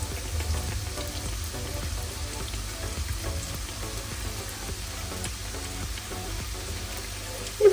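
Sweet yeast crumpets (pyshechki) deep-frying in oil, a steady close sizzle and crackle that runs evenly throughout with no talk, ending in a brief louder bump.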